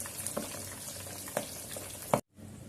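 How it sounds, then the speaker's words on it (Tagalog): Pork belly for lechon kawali crackles in a pan of bubbling hot oil, a steady close sizzle with a few sharp pops that cuts off abruptly near the end. "Mantika yan na kumukulo-kulo"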